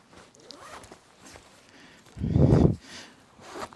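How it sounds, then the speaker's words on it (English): A rain jacket with a fleece lining being zipped up, one quick rasping pull close by, loud against a quiet room with faint rustling before and after. "And I can zip the whole thing up."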